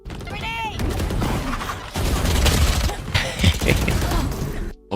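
Gunfire and an exploding grenade in a tactical shooter video game come as dense bursts of rapid shots and blasts that run almost continuously. Players talk over the shooting.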